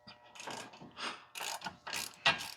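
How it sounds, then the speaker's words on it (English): A hand ratchet works on the four 18mm wheel hub bolts of a Dodge Ram 2500/3500, giving several quick bursts of clicking pawl strokes separated by short pauses, close and crisp, with no talking. "To remove the wheel hub, there are four 18mm bolts to remove."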